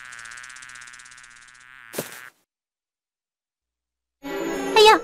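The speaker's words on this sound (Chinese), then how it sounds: "哎呀，是只蜜蜂，" A bee buzzes steadily for under two seconds in an animated Buddhist story about caring for living things. A sharp hit follows, then silence, then a louder tonal sound near the end.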